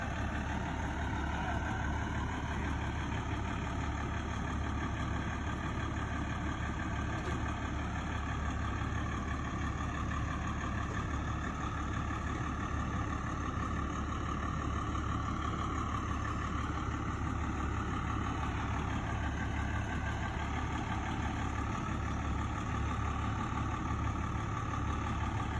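A public utility department truck idles steadily at night on Millard Street. Its low, continuous engine rumble holds at an even level throughout, with no talk over it.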